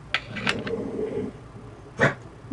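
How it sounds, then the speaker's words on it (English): A pet dog making noises indoors, several short, close vocal yips and whines in scattered bursts over a quiet room. "My dog is making noises."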